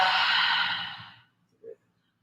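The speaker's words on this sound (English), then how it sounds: "Exhale through the mouth." A single long, breathy exhale through the mouth during a yoga breathing exercise, loud at first and trailing off over about a second, followed by a brief soft breath sound after a short pause.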